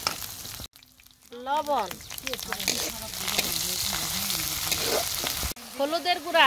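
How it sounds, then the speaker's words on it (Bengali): Chicken sizzles and fries steadily in a pan with garlic, ginger paste, salt, turmeric and ground spices, a continuous close crackle that rises after a brief pause while someone speaks over it. "ধনিয়ার গুঁড়া, মরিচের গুঁড়া সবকিছু দিয়ে খুব ভালোভাবে কষে নিতেছে।"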